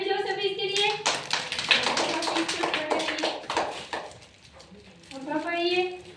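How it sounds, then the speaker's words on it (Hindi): Children clap their hands together in a burst of rapid, uneven claps lasting several seconds, with a voice speaking before and after the applause. "ताली बजाओ सभी इसके लिए।"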